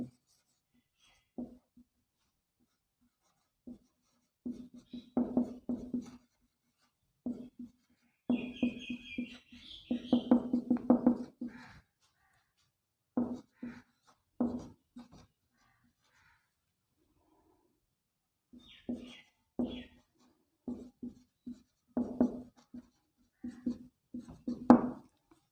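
A pen scratches across paper in short, irregular bursts of strokes and pauses as a math rule is written out by hand, close and fairly quiet, with no talking.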